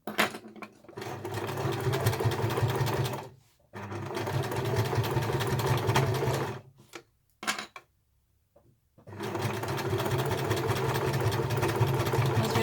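Sewing machine stitching through the layers of a snap-shut glasses case: loud, fast rhythmic stitching in three runs, separated by short pauses and a near-silent gap before it starts up again.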